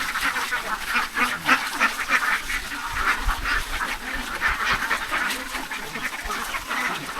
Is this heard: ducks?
yes